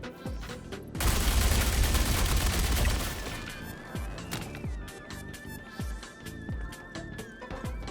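Fresnel Volt LMG fired in Star Citizen with no heat applied: a loud sustained burst of automatic fire up close, then a steady run of separate heavy shots with a rising electronic whine under it.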